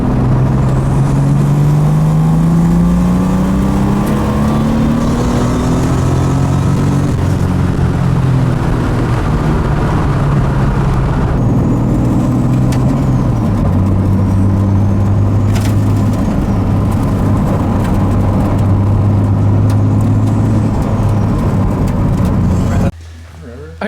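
A stock 2JZ-GTE VVTi with a Garrett GTX3076R Gen2 single turbo pulls on a dyno, its engine droning loudly and climbing in pitch through long sustained runs, then cutting off abruptly near the end.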